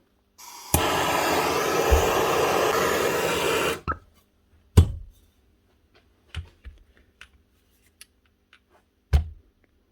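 A heat gun heating a part of a Hilti TE905AVR hammer drill during repair blows a steady loud rush for about three seconds, then cuts off, leaving scattered sharp clicks and knocks of handling nearby.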